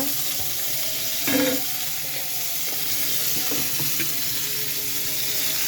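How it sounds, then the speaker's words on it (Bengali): Pieces of snakehead (shol) fish sizzle in hot oil in a pan, a steady close crackling hiss with one brief louder flare early on. "এই যে মাছ ভাজা হচ্ছে"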